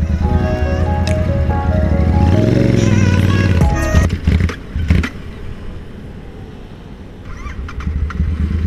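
A Royal Enfield Interceptor motorcycle pulls away in first gear, its engine a close, loud, throaty drone that swells as the revs climb, then drops into rougher, uneven rumbling and wind noise.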